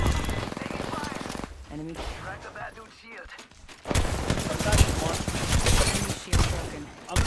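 Bursts of rapid automatic gunfire from a shooter video game, loud and close, broken by a quieter gap before heavy firing resumes, with someone talking over it.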